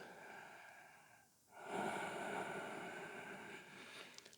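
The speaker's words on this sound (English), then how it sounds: "Really deepen this last breath." A long, deep breath during a vinyasa yoga session for open hips: a slow, close inhale with a brief pause, then a sustained, airy exhale that fills the rest of the stretch.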